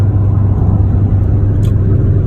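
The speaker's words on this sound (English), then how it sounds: "gonna take the car out for a ride" Engine of a 1993 Asuna Sunfire with a head gasket oil leak, heard as a steady, loud low rumble that holds evenly throughout with no clear rise in revs and no voices.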